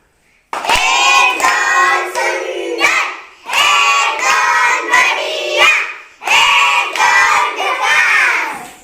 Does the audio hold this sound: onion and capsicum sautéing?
no